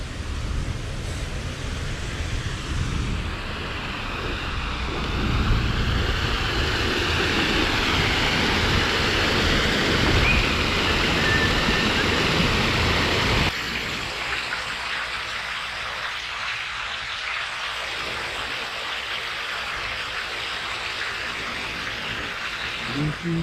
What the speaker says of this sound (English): they'll open up the flood hatches now. They're little gates, or little doorways inside the gates themselves, which let the water flood in.